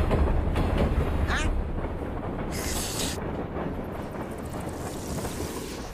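A train wagon clatters steadily along rails, a continuous rumbling roll with wind-like noise over it, close and fairly loud, with a brief higher whistling sweep partway through.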